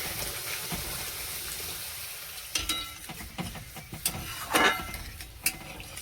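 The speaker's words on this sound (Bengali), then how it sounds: "এবার জল দিয়ে দিচ্ছি।" Water poured into a pan of sizzling fried spice paste for a fish curry, with a low frying hiss broken by stirring clatter and a louder surge of splashing and spitting as the water hits the hot oil.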